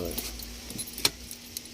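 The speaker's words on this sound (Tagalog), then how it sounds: "ito yung susi" Keys to the ignition switch of a HOWO 380 dump truck jingle close by, a few light metallic clinks and one sharper rattle over a faint steady hum.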